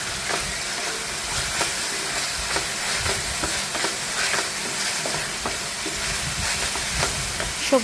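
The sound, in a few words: vegetables being sautéed in a pan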